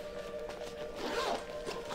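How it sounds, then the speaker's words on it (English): A big zipper on a barber and stylist bag being pulled open in one steady, continuous zip, close and clear with no talking. "We got your one big zipper that opens up to"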